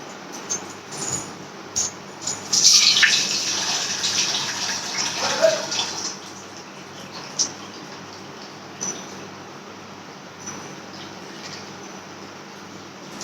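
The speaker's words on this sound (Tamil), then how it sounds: "அரிசி வடிகட்ட வேணும் தண்ணி." Water drained off seeraga samba rice for biryani, a close, steady gushing pour lasting a few seconds before fading into quieter background with a few small clinks.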